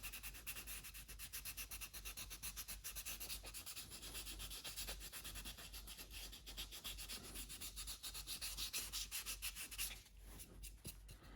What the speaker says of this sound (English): I think it's 150 grit here, and I do this right up near the light